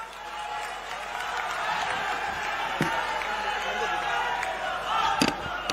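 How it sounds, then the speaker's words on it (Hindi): A large rally crowd applauds and cheers for Rahul Gandhi at a Bharat Jodo event in Chhattisgarh, a dense, sustained roar of clapping with a few sharp claps standing out. "जोरदार तालियां माननीय राहुल गांधी जी के लिए।"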